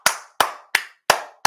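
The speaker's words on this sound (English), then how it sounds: "Round of applause for you, my friend." One person claps slowly and deliberately, five sharp, evenly spaced hand claps about a third of a second apart, close and crisp with silence between each.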